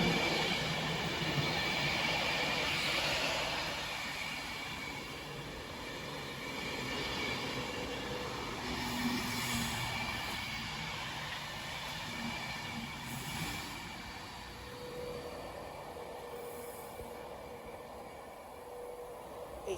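Class 390 electric train pulling out of Wigan North Western station on a direct service to London Euston, a steady rolling rumble with faint wheel squeal, sustained and moderately close throughout with no talk.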